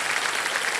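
A studio audience claps steadily at a Kaun Banega Crorepati taping, a dense unbroken burst of applause with no voices over it.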